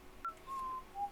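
A character in the video game TOEM whistles a short melody of three clear sustained notes, the middle one held longest, heard alone without talk.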